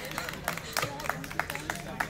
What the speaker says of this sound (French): On va attendre un applaudissement du public pour vous soutenir.